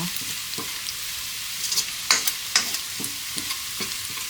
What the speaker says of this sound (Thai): กระเทียมเราจะเจียว ให้สีเข้มไปนะคะ